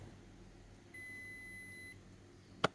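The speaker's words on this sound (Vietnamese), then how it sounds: "bấm chọn nấu nhanh này, bấm nấu này, nó phải tít tít tít tít nhé các bạn nhé" Toshiba rice cooker under repair for not boiling water, giving a single clear electronic beep when quick cook is pressed, followed by a sharp click; quiet indoor setting with no talk.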